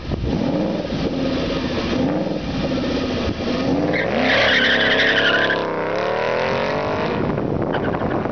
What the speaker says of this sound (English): This run is with traction control on. Go over the bump, Bill.